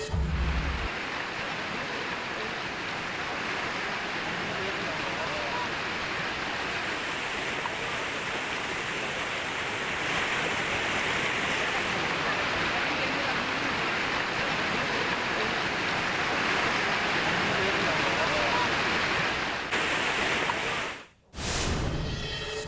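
A swollen river in Rajouri, Jammu and Kashmir, running in flood after heavy rain, roars as a steady, loud rush of water that continues without a break throughout.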